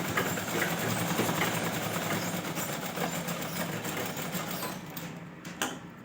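A sewing machine runs steadily while stitching a blouse, producing a continuous rapid mechanical clatter at an even pace. It slows and stops near the end.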